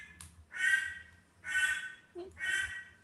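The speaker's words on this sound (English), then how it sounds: "Hear my duck?" A pet duckling gives three harsh, evenly spaced quacks close by, each about half a second long, in an otherwise quiet room.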